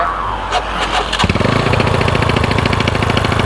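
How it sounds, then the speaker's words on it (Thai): A motorcycle with a tight throttle cable starts with a loud catch and then runs fast and loud on its own, its rapid, even engine pulses filling the rest of the moment close by. "พอมาสตาร์ทแล้วมันเบิ้นเบิ้นเบิ้นเบิ้นมันเร่งเอง"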